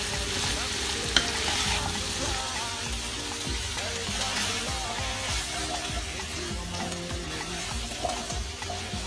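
Gizzard and vegetables sauté in a pan with a close, steady sizzle. Frequent stirring scrapes and taps run through it, and no voices are heard.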